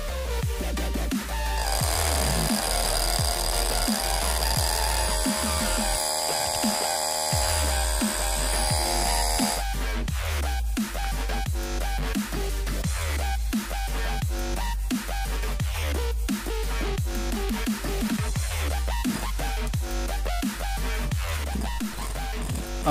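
A homemade drill built around a small DC motor runs continuously, giving a steady, high buzzing whine with a rattling edge that shifts in pitch partway through, loud and close with no talk.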